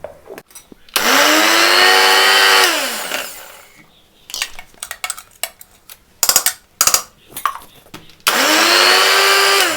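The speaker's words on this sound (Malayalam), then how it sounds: "എല്ലായിടത്തും ആ സൗകര്യം ഇല്ലാത്തതുകൊണ്ടാണ് നമ്മൾ മിക്സിയിൽ അരച്ച് നോക്കുന്നത്" A mixer grinder blends coconut chutney in loud whirring bursts, with a long run at the start and another at the end separated by rattling jar clatter, clicks and brief pauses.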